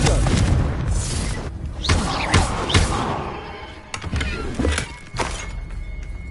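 Confringo fire spell blasts in Hogwarts Legacy, loud booming explosions with heavy thuds and rumbling debris, several impacts in quick succession over continuous game noise.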